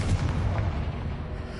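A single deep, muffled boom from a Confringo spell explosion in Hogwarts Legacy bursts at the start and rolls off into a brief low rumble.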